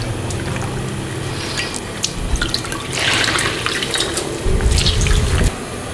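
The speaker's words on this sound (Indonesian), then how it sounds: "Kita akan tiriskan airnya." Soaked glutinous rice being drained, with water pouring and splashing steadily into a sink, close and fairly loud, growing heavier toward the end.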